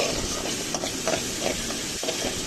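Green chillies sauté with beetroot in a hot pan for a Tamil beetroot stir fry, giving a steady close sizzle and hiss with small stirring knocks and no talk.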